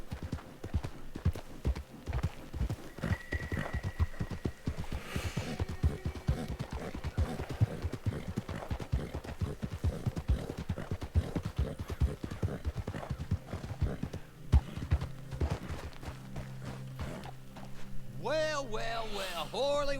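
Horse hooves clip-clop steadily throughout a Red Dead Redemption 2 game scene, with a horse neighing near the end, all under music and character talk.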